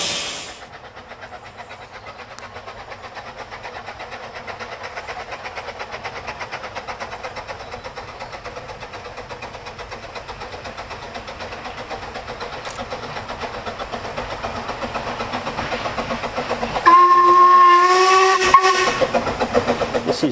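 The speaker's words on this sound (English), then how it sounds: "this is the Merddin Emrys, which is it was the first locomotive built here at Boston Lodge Workshops, finished in 1879" Steam locomotive Merddin Emrys, a Ffestiniog Railway double Fairlie built at Boston Lodge Workshops in 1879, hisses steadily for a long stretch, then gives a loud, close whistle blast near the end before the hiss resumes.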